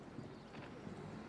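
Show-jumping horse at a Grand Prix round in Andalucía, hooves clip-clopping in a steady, moderately loud rhythm on the way home over the verticals, with no talk over it.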